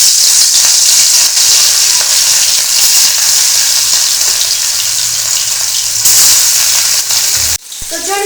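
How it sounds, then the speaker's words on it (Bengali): Fish fry in hot oil in a wok, giving a loud, dense, continuous sizzle close up that carries on for several seconds before cutting off abruptly near the end. "তো মাছগুলো এখন আমি ভেজে নিচ্ছি।"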